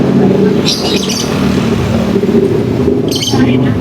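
Lutino lovebirds chirp in two short bright bursts over a steady low hum of traffic or engine noise.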